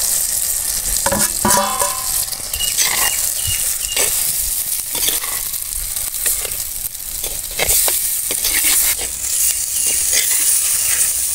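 Raw plantain pieces stir-fried in a masala pan give off a steady, close sizzle, broken by repeated scraping and clattering strokes of a stirring spoon, with no voices.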